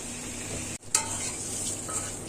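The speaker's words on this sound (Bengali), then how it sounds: "ডিমটা ভেজে নিচ্ছি" An egg frying in a kadai over a low gas flame makes a steady close sizzle and hiss, broken once by a brief gap and a light clink of a utensil, with no talk.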